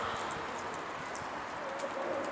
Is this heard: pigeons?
yes